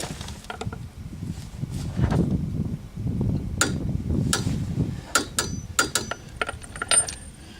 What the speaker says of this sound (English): I can go ahead and tighten this axle nut up to 155 foot-pounds